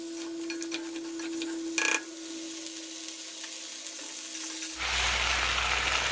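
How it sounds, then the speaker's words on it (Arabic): Tomato paste fries with red meat in a pot, giving a steady sizzle with a brief clatter, then a sudden louder roaring hiss near the end. "راح اضيف معجون، اخلي المعجون يحمص وياها"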